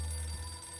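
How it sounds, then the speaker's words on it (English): A telephone rings in the video game 60 Seconds! Reatomized, a short, fairly quiet electronic bell tone with steady high harmonics over a low hum, and no voice over it. "oh, the phone's ringing."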